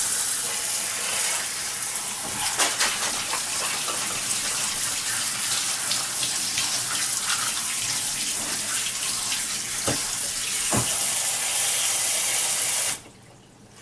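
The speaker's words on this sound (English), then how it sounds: "And then just run it under the faucet. Give it a rinse." Water from a kitchen faucet runs steadily over potatoes, carrots and cabbage held in a sieve, a continuous loud splashing rinse with occasional sharper spatters, cutting off abruptly near the end.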